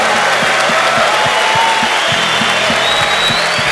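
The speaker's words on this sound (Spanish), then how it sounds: "un aplauso a Jesucristo." A large crowd at a men's Christian convention applauds loudly and continuously, a dense roar of clapping with scattered cheers and whoops, over a steady rhythmic low thump of music.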